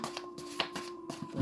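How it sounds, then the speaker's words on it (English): A deck of playing cards is shuffled by hand in a few quick riffling bursts, close and fairly soft, with a steady faint hum behind and no speech. "I'm just going to shuffle a bunch of them, have them come out"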